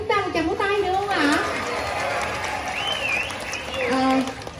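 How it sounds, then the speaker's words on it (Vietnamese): An audience in a Vietnamese comedy theater gives the actors a round of applause, a fairly loud wash of clapping underneath an emcee who keeps talking over it. "cho tất cả diễn viên chúng ta một tràng vỗ tay được không ạ?"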